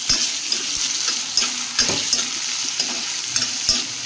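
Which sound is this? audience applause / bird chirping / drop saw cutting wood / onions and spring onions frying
onions and spring onions frying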